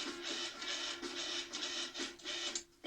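Grated cheddar being pulsed into dough in a food processor: a run of loud, close motor bursts in an even rhythm, each short pulse followed by a brief gap, with the sound dropping out near the end.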